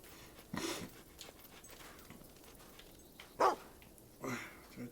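A dog in the video game Fable 2 gives several barks and yips at close range, spread unevenly over a low game background, with someone talking now and then.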